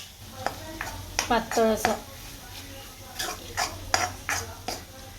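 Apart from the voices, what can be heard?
roasting jowar (sorghum) flour, stirring in a pan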